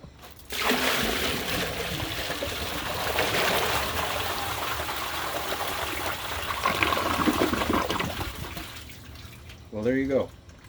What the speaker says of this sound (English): first thing I'm going to do is a full 5-gallon bucket flush, dump straight in